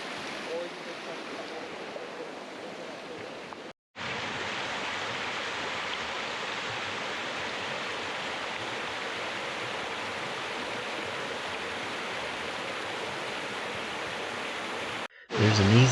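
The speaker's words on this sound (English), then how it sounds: "At the top of the trail, you can see where the mill race collects the water from the creek." Creek water pours steadily into the mill race at Mingus Mill, an 1886 grist mill in the Great Smoky Mountains. The rushing wash is loud and constant and breaks off for two very short gaps.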